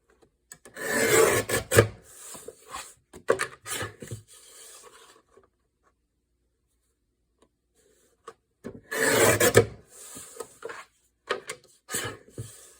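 The edge of a handmade journal is filed or sanded in two separate bursts of rough, scratchy rubbing. The sound is close, with quiet pauses between the passes.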